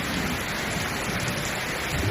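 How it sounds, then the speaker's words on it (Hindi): Torrential rain driven by strong wind in an animated cartoon storm, a loud, dense, steady wash of pouring water with a low rumble underneath, continuous and close with no pauses. "तेज़ हवा के साथ मूसलाधार बारिश शुरू हो गई।"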